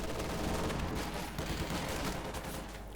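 Continuous battlefield gunfire from the Company of Heroes 2 strategy game, a dense, steady barrage of rifle and machine-gun fire crackling throughout without pause, loud and close as engineers push an assault.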